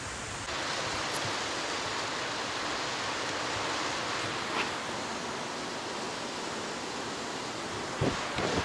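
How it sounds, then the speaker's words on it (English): Steady, even hiss of rain falling, a constant wash of noise with no breaks, occasional faint knocks toward the end. "it's just started raining"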